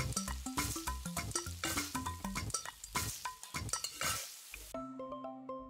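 Video game frying sound from Eastward as sand droop pasta cooks in a pan: rhythmic sizzling and clinking stirring bursts over chiptune-style music, ending in a short jingle, with no talking.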